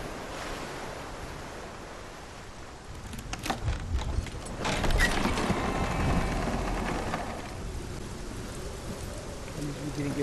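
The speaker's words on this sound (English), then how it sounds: "Sound of rain and thunder, so beautiful." Steady rain hisses throughout in a video game, Hellblade: Senua's Sacrifice, swelling into a louder rumbling gust midway like distant thunder before settling back to a soft patter.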